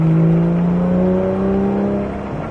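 A powerful Porsche GT3 sports car engine accelerates hard on a racing circuit, its pitch climbing steadily, loud and close, with no voices.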